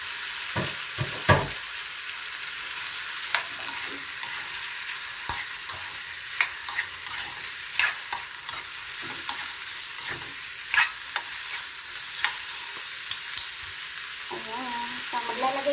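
Pork sizzles and fries in a pan while being stirred, giving a steady soft hiss broken by scraping clatters, with a brief splash of water near the end.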